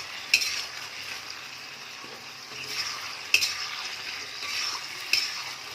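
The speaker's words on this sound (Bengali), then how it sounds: "এইভাবে এটাকে অনবরত এখন একটু ভাজা করে নেব।" Chicken sizzling in a pan as it is stir-fried for restaurant-style dry chilli chicken, a steady hiss broken by a few sharp spatula scrapes and knocks against the pan, close up with no talking.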